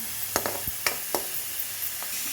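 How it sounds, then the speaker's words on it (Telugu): Onions sizzle and fry in a pan for a cauliflower curry with turmeric and dried red chillies, a soft steady hiss broken by several sharp crackles and spatters, close and quiet, with no talk. "ఆనియన్స్ వేగాయి కదా"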